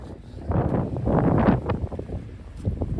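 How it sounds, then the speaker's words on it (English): Wind gusting outdoors near a firewood trailer, a broad rumbling roar that swells and fades in uneven gusts, buffeting the microphone throughout with no talk. "it might be too windy"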